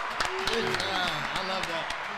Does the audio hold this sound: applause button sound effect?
yes